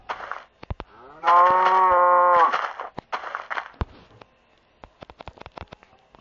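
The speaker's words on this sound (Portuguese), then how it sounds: "Umas vacas." A Minecraft Pocket Edition cow moos in one long, loud, sustained call, surrounded by sharp clicks and taps; no talking.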